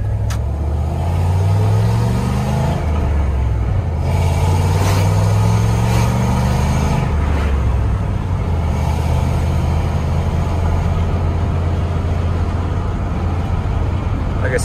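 A truck engine held at steady idle after the clutch goes in while rolling into a driveway to stop, a loud, close, even drone with some gear whine and no surging.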